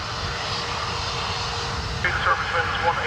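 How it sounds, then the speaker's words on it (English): An American Airlines jet takes off from runway 10 right at Dublin Airport in rainy crosswind conditions, its engines a steady distant roar with rumble, while a voice talks over it. "Takeoff 10 right, American 723."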